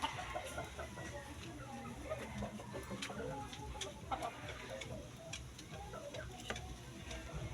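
Caged chickens cluck repeatedly at close to moderate distance, with scattered sharp ticks and rustles, and a faint voice occasionally underneath.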